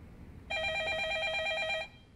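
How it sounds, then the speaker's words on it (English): An old-style telephone bell rings in a long-established law office, one loud continuous burst of rapid trilling that starts abruptly and stops after about a second and a half, with no talk over it. "interrupted by the phone."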